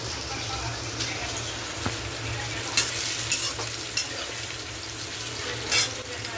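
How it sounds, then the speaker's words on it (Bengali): Sweet pumpkin fries with onion and chili in a pan, a constant close sizzle broken by occasional stirring scrapes and clinks, with no voice over it. "কুমড়োটা ভাজা হয়ে এসেছে প্রায় পেঁয়াজ আর লঙ্কা দিয়ে ভাজি"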